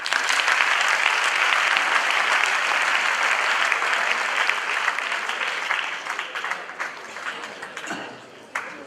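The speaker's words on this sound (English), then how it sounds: "a clap for that." A crowd applauds loudly and evenly for several seconds, then the clapping thins and fades out near the end.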